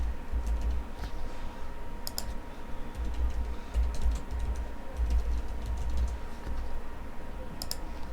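Typing on a computer keyboard, a steady run of fast, light key clicks with a few sharper taps, close and fairly quiet, going on for several seconds with no one talking.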